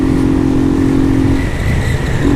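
An old 150cc motorcycle engine runs loud and close with an unusual mechanical noise, a steady droning hum over rough low rumble, easing slightly partway through.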